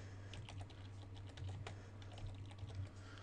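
Soft, rapid keystrokes on a computer keyboard tap out a search in a quiet room, the clicks close and continuous under a steady low hum.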